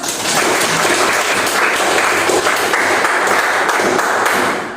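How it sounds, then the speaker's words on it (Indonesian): Classmates in an Indonesian language lesson applaud together, a dense, steady burst of clapping that fills the room for nearly five seconds at close range before cutting off. "Tepuk tangan untuk kita semua."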